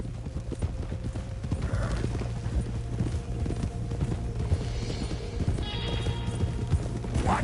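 Horse hooves clip-clop steadily in Red Dead Redemption 2, a quiet, even rhythm of footfalls with a low background hum and no talk over it.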